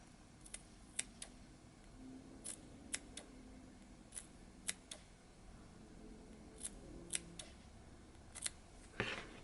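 Sharp scissor snips, about a dozen irregular crisp cuts spread across the clip, quiet and close with a faint background hum.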